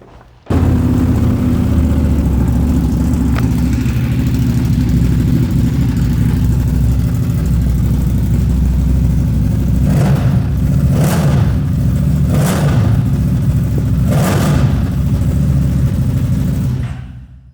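A 2009 Buell 1125CR sport motorcycle engine idles loudly up close, then blips the throttle in several sharp revs before cutting off.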